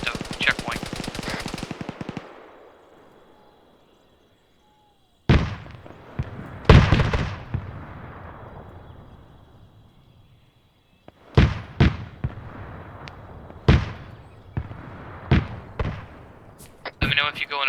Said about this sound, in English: I'm hearing gunfire northwest on the airfield.